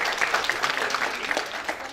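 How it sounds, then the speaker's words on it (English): An audience at a social cohesion dialogue event claps steadily in a room, dense applause filling the whole stretch at moderate loudness with no talk over it. "Please let's give them as well a round of applause."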